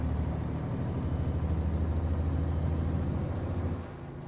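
A heavy truck engine in a trucking video game rumbles with a rapid, stuttering Jake engine-brake chatter that holds steady, then drops off abruptly near the end.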